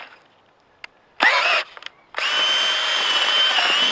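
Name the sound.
auger drill bit drilling into dirt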